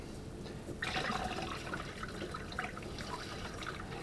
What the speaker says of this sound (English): Cold water straight from the tap.